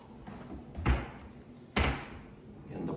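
A push-to-open pantry door in a modern European kitchen shuts twice, each closing a soft, close thud about a second apart, with quiet room tone between.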